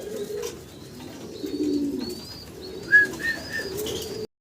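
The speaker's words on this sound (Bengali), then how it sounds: "দুইটা কবুতর কিন্তু খুব চঞ্চল" Caged fancy pigeons coo in low, soft rolling phrases, with a few brief higher chirps and faint shuffling, close by and steady.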